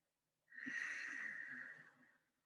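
A single slow, exaggerated pranayama breath with a constricted throat gives a soft, close, hissing rasp lasting about a second and a half before fading out.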